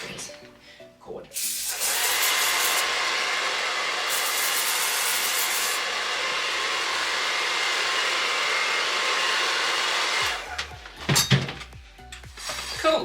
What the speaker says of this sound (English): And then you can freeze dry it with the blow dryer.